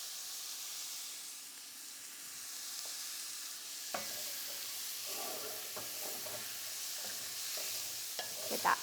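Garlic sizzles in hot bacon fat during a French dinner workshop, a steady bright hiss broken by scraping stirs of a spoon across the pan bottom, close and continuous with no talk.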